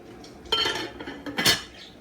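Metal pots clanking and scraping as they are set on the fire to cook peas for Jamaican rice and peas, two short clattering bursts close by, no talking.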